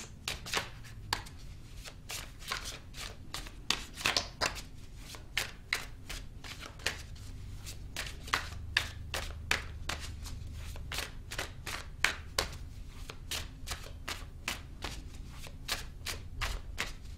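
A deck of tarot cards is shuffled continuously at close range, a dense run of rapid riffling flicks and soft slaps with a steady rhythm and no talking.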